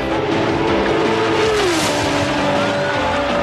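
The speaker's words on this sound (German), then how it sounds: "Aber jetzt auf der Geraden wird Gas gegeben." Race car accelerating hard down a straight after leaving an underpass, a loud close engine roar with a rising, sliding pitch and a faint tyre squeal, alone without voices.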